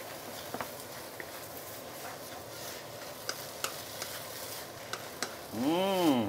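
Big chili and spring onion stir-fry with glass noodles in a pan, a soft steady sizzle with scattered sharp utensil clicks and taps, closing with a short louder swoosh of tossing, no voices.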